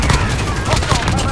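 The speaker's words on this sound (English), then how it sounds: "Holy crap, there's so much explosions." Dense bursts of explosions and rapid gunfire from a first-person shooter video game crackle loudly and continuously, with a player's voice talking over the chaotic barrage.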